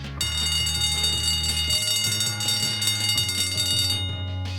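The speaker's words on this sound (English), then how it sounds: "You can hear through the glass what sounds like an old school bell alarm." An old-fashioned school bell alarm rings continuously, muffled by a glass partition, as a dense metallic clangour that holds steady throughout.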